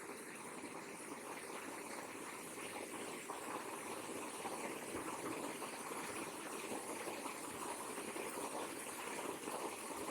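Sewing machine stitching a folded casing on a newborn baby girl's frock, a faint, steady mechanical whir and rattle that runs evenly throughout with no pauses.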